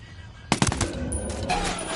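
Gunfire in the video game Ghost Recon Wildlands, a rapid burst of automatic shots that starts suddenly and is followed by ringing, layered echoes of the shooting.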